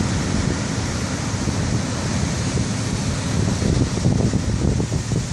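Huge surf churned up by an offshore hurricane along the Southern California coast, a loud continuous roar of crashing waves mixed with heavy wind buffeting the microphone, with no talking.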